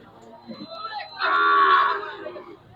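Sahiwal cattle at a busy Habiganj cattle market moo in a single loud, sustained call lasting about a second, rising out of a murmur of background voices and market chatter.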